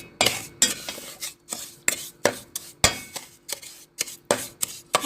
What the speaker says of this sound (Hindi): 1 कप हमने चीनी डाल दी। इसको अच्छी तरह से मिक्स करेंगे।